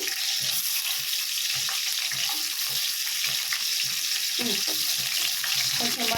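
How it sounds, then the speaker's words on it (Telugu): Onions sizzle steadily in hot tempering oil for Telugu-style tomato rasam, a continuous bright frying hiss with small crackles and faint clinks of a utensil, close and even throughout. "ఉల్లిగడ్డ తాలింపులో వేసేద్దాము"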